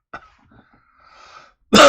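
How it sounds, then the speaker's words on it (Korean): After near silence broken by a faint throat noise, one sharp, loud cough bursts out close up at the very end. "이것만 시작하면 기침이 갤록거리네."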